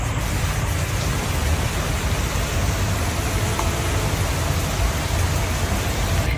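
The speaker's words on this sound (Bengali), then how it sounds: "শুনছেন বৃষ্টির শব্দ, মানে রোদের মধ্যে বৃষ্টি।" Rain falling during sunshine over a Bangladeshi village, a dense, steady hiss of drops on surfaces that stays loud and even throughout, with no voices.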